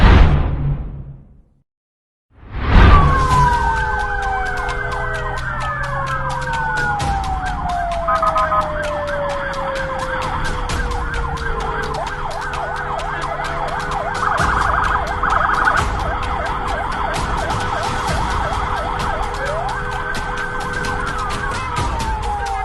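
Emergency vehicle sirens wail loudly on a road, with rising and falling tones from several vehicles overlapping after a brief near-silent gap at the start, against traffic noise.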